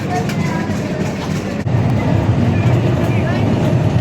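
A commuter train runs from Dhaka toward Narayanganj, its steady low rumble and rattling carriage noise continuing throughout, with a brief jolt partway and a person talking over it.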